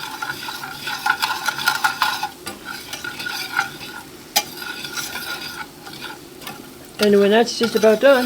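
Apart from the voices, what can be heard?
onion and shallots being stirred and softened in a pan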